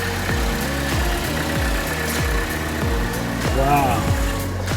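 A 2012 Chevy Cruze idles with a steady low hum under someone talking close by throughout.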